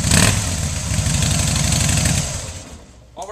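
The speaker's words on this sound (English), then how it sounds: "Go ahead and fire it up here for us." A 2011 Harley-Davidson Softail Fat Boy, fitted with mirror chrome wheels, fires up and settles into a loud, steady, loping idle close by for about two seconds before the engine cuts and a faint click follows.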